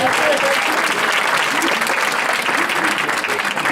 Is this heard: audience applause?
yes